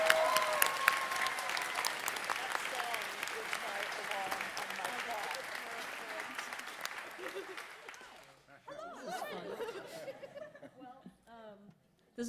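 A concert audience in Berkeley, California applauds a choir with sustained clapping and a few chuckles, then the clapping thins out and scattered voices and stray claps take over near the end.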